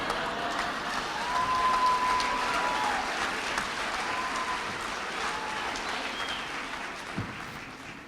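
Audience applause and cheering fill a hall at a tech presentation after a large early mobile phone is unveiled, a steady dense wash of clapping that swells then slowly fades.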